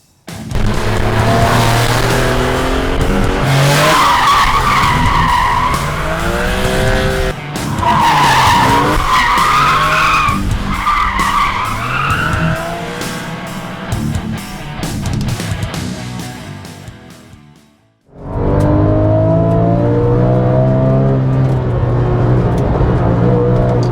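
A Porsche 911 GT3 on a race circuit, engine roaring loud and close with rising and falling revs through gear changes, a sharp drop to near silence around seventeen seconds, then the engine surging back hard.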